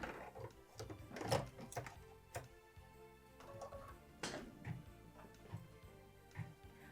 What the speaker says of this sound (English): we're going to return our hoop to the machine and stitch all of our light green details